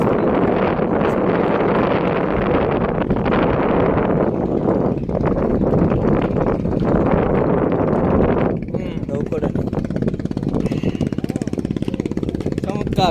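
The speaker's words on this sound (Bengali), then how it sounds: "প্রচণ্ড বাতাস, এই বাতাসে যে স্পিডটা খাচ্ছি" Strong wind buffeting the microphone while riding at speed along a bypass road beside a wide wetland, a loud continuous roar over a low engine hum that eases slightly near the end.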